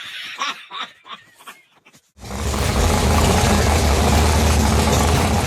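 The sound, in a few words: race car engine running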